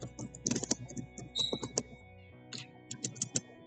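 Someone types on a computer keyboard nearby in quick, irregular bursts of clicks with a short pause in the middle, fairly faint and without speech.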